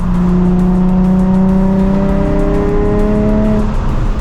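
A Nissan 350Z with an aftermarket Megan Racing exhaust hums steadily under load in fourth gear at 3,500 RPM from inside the cabin, a loud, sustained exhaust drone that holds its pitch and then eases off.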